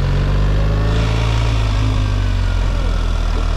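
A BMW R 1300 GS Trophy motorcycle engine runs with its exhaust valves opened, a steady, loud, close rumble that holds throughout without talk.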